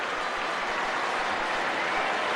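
Stadium crowd applauding a goal at a football match between England and Czechoslovakia, a dense, steady wash of clapping, loud and unbroken throughout.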